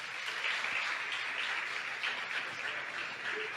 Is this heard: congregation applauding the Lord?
yes